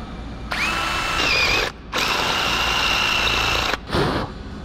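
A power drill runs at steady high speed boring cotter-pin holes in a roll-up box truck door operator, whining close and loud in two long bursts with a brief pause between, then a short third burst.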